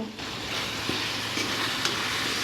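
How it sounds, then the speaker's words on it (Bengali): Chicken frying with masala in a pan while being stirred, a steady close sizzle with faint scraping and a few small taps, for a sweet-and-sour chicken dish. "মশলা দেওয়ার পরে আবার একটু নাড়িয়ে নেব।"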